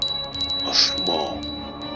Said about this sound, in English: Just as I finished saying the words, I heard a bell.